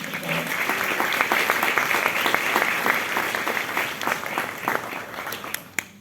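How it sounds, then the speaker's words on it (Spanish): An audience at a panel on Ibero-American performing arts applauds the man being introduced, a sustained wash of clapping that fades out over the final second. "Un aplauso para Carlos"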